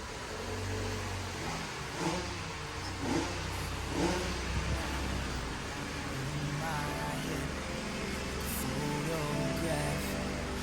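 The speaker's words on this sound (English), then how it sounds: "I'm going to pull the golf in." A VW Golf rolls into a garage with its engine running at a moderate, steady drone, revving slightly at times, close by, while a person talks briefly over it.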